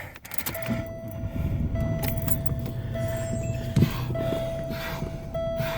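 Steady low engine rumble of a 1996 Buick LeSabre in motion, with a misfire, a faint constant tone and a brief thump partway through, no voices.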